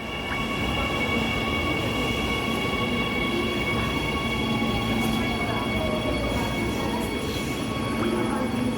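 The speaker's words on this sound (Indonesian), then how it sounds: "sepertinya akan masuk LRT dari arah stasiun Velodrome sampai di stasiun Pegangsaan 2 dengan nomor kereta nomor 7" A Jakarta LRT light rail train pulls into Pegangsaan 2 station from Velodrome, a steady loud rumble of wheels and motor hum with faint squeals, close by and continuous, with people talking quietly in the background.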